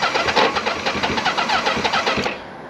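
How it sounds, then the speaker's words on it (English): A 40-year-old motorcycle engine revs under light throttle, a loud close rhythmic chugging with pulsing beats that fades slightly at the end. "Let me try a little throttle."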